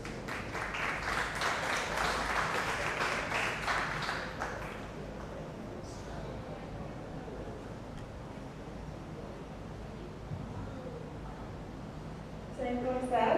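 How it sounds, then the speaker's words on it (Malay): Applause for the women at a university student forum, a burst of clapping in the first four seconds that fades under room noise, with voices talking in the hall. "Yes, bagi tepukan orang perempuan."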